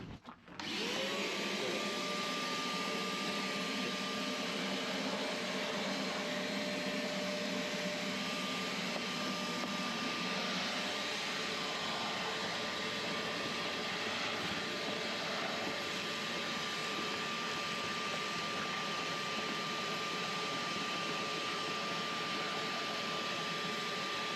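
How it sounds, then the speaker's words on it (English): A vacuum cleaner hoovers foam out of a sailboat's interior, running loud and close as a steady roaring whine that holds from start to finish, with no voices over it. "Hoovering's the best part."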